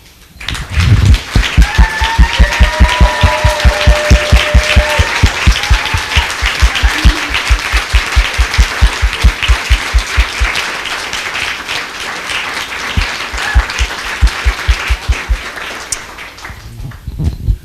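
Audience at a book launch applauds in a long, loud burst of clapping that holds strong for much of the stretch, then thins and fades toward the end, with some faint voices mixed in.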